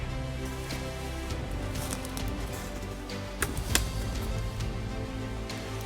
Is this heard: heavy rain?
yes